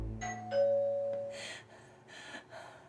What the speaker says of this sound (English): suddenly the doorbell rings